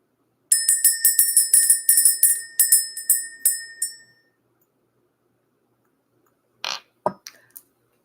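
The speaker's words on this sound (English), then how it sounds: "Let's ring the bell." A small bell is struck rapidly about a dozen times in a bright, ringing run, then stops and fades, followed after a short silence by a few faint metallic clinks, close and clear with no talking.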